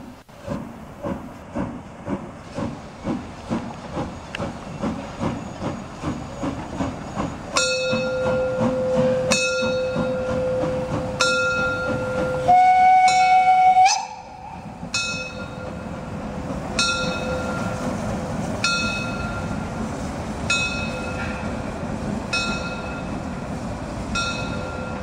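A narrow-gauge steam locomotive of the Molli railway in Bad Doberan, Germany, chuffs rhythmically, then a bell rings repeatedly and a loud whistle blows before the passenger train pulls away, chuffing steadily under continued bell strokes.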